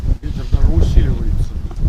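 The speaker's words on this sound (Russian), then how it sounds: "ветер сильнее даже еще стал" Strong wind buffets the microphone in low, rumbling gusts during a storm on a fishing outing, with a person speaking faintly underneath.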